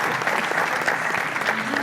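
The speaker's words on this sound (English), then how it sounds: "Let's give Frank a big round of applause." A seated audience at a housing industry panel gives dense, steady applause that fills the whole short stretch at an even level.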